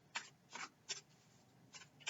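Angel tarot cards being shuffled close up, five short papery riffling bursts separated by quiet pauses, soft and without talk.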